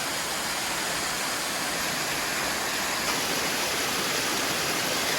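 Water flumes steeply down a mountainside on the northern side of Moose Lock along the Appalachian Trail in New Hampshire, a steady, loud broadband rush that runs unbroken and close for the whole stretch.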